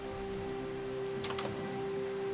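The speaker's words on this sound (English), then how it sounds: "he decides to brave the rain and take Lucky on a walk" Steady Minecraft rain hisses evenly throughout, with a brief cluster of sharper drip-like ticks near the middle and a constant low tone underneath.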